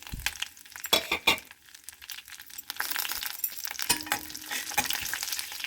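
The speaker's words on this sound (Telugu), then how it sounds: "నూనె కాగాక కొద్దిగా జీలకర్ర వేసుకోవాలి. కరివేపాకు, పచ్చిమిర్చి, బిర్యానీ ఆకు వేసుకోవాలి." Cumin, curry leaves, green chillies and bay leaf hitting hot oil in a pan, bursts of crackling and clinking followed by a steady bright sizzle that builds and holds, near and fairly loud, no voices.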